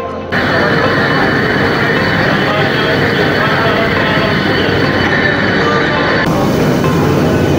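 A new blue-and-white air-conditioned Sealdah–Ranaghat local electric train stands at a platform at Sealdah station, giving off a loud, steady rumble and hum with no break.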